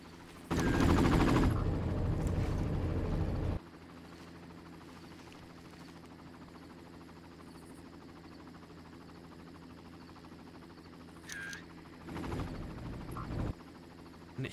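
Helicopter in the video game Far Cry, heard as a loud burst of rotor noise and gunfire at the start, then a steady low drone under quieter game ambience, with another loud burst near the end.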